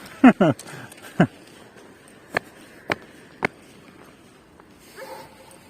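A dog barks a few times in the distance, sharp isolated yaps spaced apart, after brief talk at the start over steady outdoor background noise.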